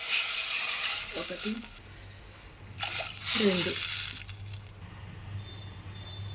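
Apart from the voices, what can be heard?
pouring two pots of water into curry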